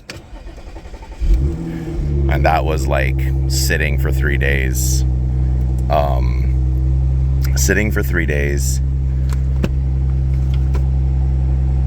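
An Audi S4 (B8.5) starting from completely cold after sitting three days, a brief crank catching into a loud, steady idle rumble that holds throughout while someone talks over it.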